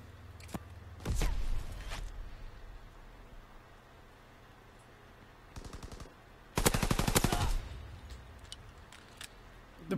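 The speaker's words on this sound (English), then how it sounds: "Now he's using the pistol." Machine pistol fire in Call of Duty: WW2 multiplayer: two short bursts of rapid automatic shots, the second louder and longer, with scattered faint clicks and quiet stretches between.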